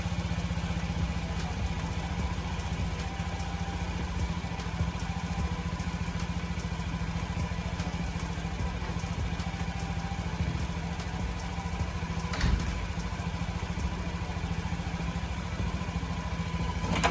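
A 2022 Honda Ruckus scooter engine idles steadily while warming up, a low continuous putter with a faint rattle running unchanged the whole time, close by and with no one speaking.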